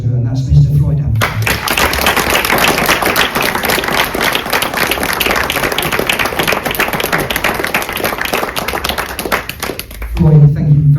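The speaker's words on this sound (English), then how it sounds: "I would like, on behalf of the sport, for us all to give a round of applause to" Sustained applause from a crowd at a greyhound racing derby final ceremony, dense clapping filling about nine seconds between brief stretches of someone speaking at the start and end.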